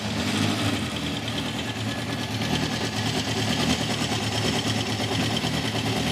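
A 1971 Honda CB750 K1 motorcycle engine, hard starting and running poorly with cylinders out of sync, idles loudly and roughly nearby, a steady uneven chugging drone without voices.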